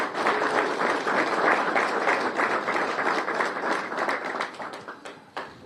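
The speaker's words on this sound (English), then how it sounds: "Let's give her a round of applause as well." An audience at a Black male advancement summit applauds the City Council President, a full, steady round of clapping that holds for several seconds and then thins out with a few scattered late claps.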